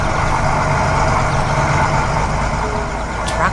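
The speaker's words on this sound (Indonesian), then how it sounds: "Traktor besar membawa trailer penuh pohon." A big tractor engine hauls a trailer loaded with trees across a field, giving a steady, loud, continuous low rumble and drone that holds evenly throughout, with no pauses and no talking.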